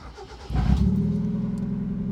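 A Mazda Miata engine cranks briefly and catches after nine months idle, then settles into a steady, deep idle rumble, loud and close.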